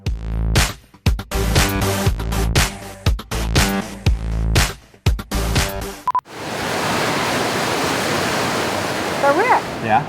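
Artificial waves roll through an indoor wave pool as a steady, broad roar of churning water, loud and continuous, following a stretch of loud music.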